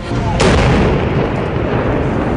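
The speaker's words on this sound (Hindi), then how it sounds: "आईडी तक तार बिछाने के बाद एक धमाका कर आईडी को डिफ्यूज कर दिया गया" A controlled blast set off by wire to defuse an IED bursts out in a single loud, sharp boom, then a rumbling, sustained roar that stays heavy and does not die away.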